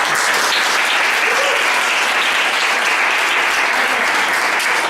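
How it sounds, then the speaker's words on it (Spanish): Audience applause fills the room, a dense, loud, steady clapping that continues evenly for several seconds without pause. "Un aplauso."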